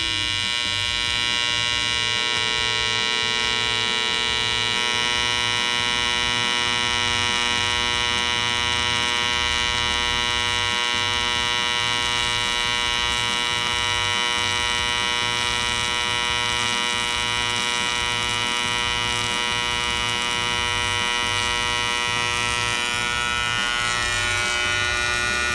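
A TIG welder puts out a loud, continuous electrical hum and buzz that holds steady throughout, with a sharper hiss building near the end and no voices.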